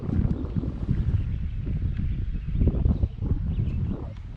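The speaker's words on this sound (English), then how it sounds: "now the wind wants to blow where it makes it really difficult" Wind gusting in the open over a fishing spot on the water, heard from a kayak as a steady low rumble of buffeting against the microphone, alone with no talk.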